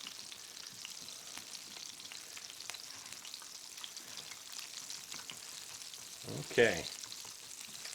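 Asparagus fries sizzle steadily in a pan of oil, a soft, even crackle throughout, with a brief louder clatter near the end and one short spoken word.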